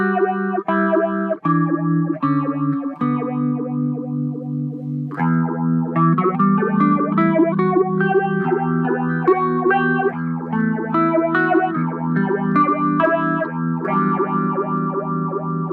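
Guitar through a Chase Bliss Audio Wombtone analog phaser set to a rhythmic waveform with slow rise and quick dip, chords and melodic lines swirling in a pulsing sweep, loud and continuous with no talking.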